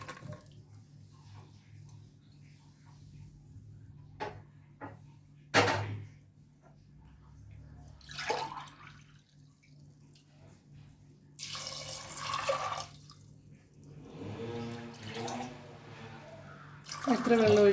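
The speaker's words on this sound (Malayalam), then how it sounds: "നമുക്കിതിനെ കുക്കറിലോട്ടിട്ടിട്ട് വെള്ളം ഒഴിച്ചിട്ട് വേവിക്കാം." Water pours from a container into a pressure cooker holding soaked chickpeas, a steady splashing burst after a few clinks and knocks of the cooker, then a second gurgling pour at close range.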